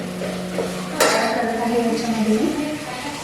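A utensil scrapes and clinks against a pan as garam masala is stirred into dal khichdi, with a few metallic knocks and a voice faintly audible underneath.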